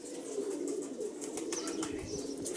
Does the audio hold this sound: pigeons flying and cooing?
yes